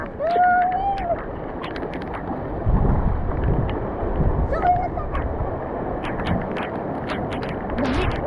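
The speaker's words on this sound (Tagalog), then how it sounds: "Yan na yung hangin." Gusty wind from a passing typhoon buffets the microphone outdoors, swelling into stronger low rushes midway, while people talk nearby.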